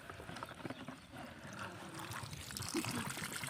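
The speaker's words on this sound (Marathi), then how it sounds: "बघा पाणी यायले बोरमधून" Water runs steadily out of a borewell pipe on a farm and flows down a channel toward marigold plants. It makes a continuous, fairly close rushing and trickling sound with no voices.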